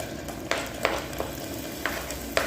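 Onions, garlic and ginger sizzling in hot oil in a pan, a steady close hiss broken by a few soft, evenly spaced stirring taps, with no voices.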